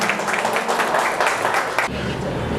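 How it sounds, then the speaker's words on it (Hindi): A gym audience applauds during a certificate ceremony for fitness members, with dense, steady clapping from a crowd filling the space throughout and a slight shift in tone near the end. "ज़ोरदार तालियां इनके लिए भी।"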